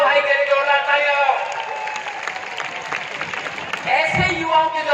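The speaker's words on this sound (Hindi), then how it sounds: "कह रही जोरदार ताली लगाओ।" An audience claps and applauds at a live comedy poetry show, a steady wash of clapping heard under someone speaking loudly over it.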